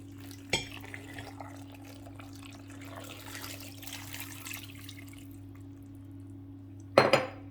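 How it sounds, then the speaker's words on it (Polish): Water is poured into a pot of hamin (cholent) ingredients, a soft trickle over a steady kitchen hum, with a sharp pot clank near the start and another clatter at the end. "Wszystko zalewamy wodą."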